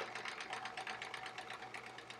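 Sewing machine running steadily while free motion quilting couched stars on a baby quilt, a fast, even needle chatter held close and continuous, with no talking.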